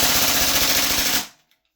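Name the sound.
Salvo MCX Spear gas blowback airsoft rifle firing on full auto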